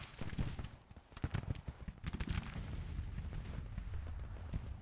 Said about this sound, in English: So the artillery is firing on them.